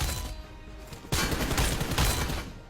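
Rapid bursts of gunfire from the mobile shooter BGMI as training bots are shot, a quieter volley followed by a louder, denser stretch of shots at moderate distance, with no speech.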